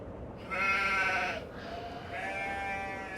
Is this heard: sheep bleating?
yes